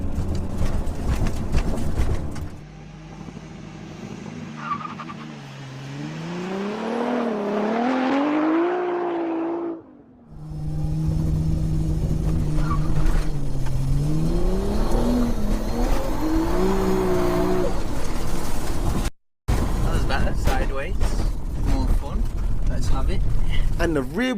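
A rear-wheel-drive Toyota Supra with a dual-clutch gearbox launches hard, its engine note climbing through rising revs and quick gear changes, loud and close, with tire noise, engine droning throughout and a voice talking over it.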